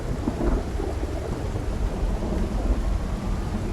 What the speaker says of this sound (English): Also stuck with a random storm, yeah.